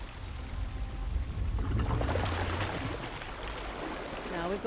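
Water pouring and splashing in Uncharted 4: The Lost Legacy, a steady rushing stream that runs throughout, with someone speaking over it partway through.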